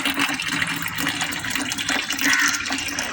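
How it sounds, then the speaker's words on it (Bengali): Water runs steadily into a basin from a tap for laundry soaking, a continuous close splashing rush with no talk. "এক গামলা জল ভরে ঢেকে রেখে দেবো"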